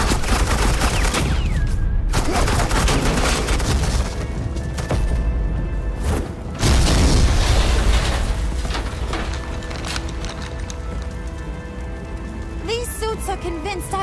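Suppressing gunfire in Batman: The Enemy Within, a dense, continuous roar of overlapping shots and impacts that stays loud throughout, with a couple of heavier bursts midway and faint game sounds near the end.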